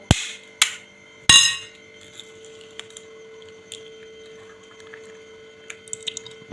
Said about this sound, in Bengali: ডিমটা ফাটিয়ে নেবো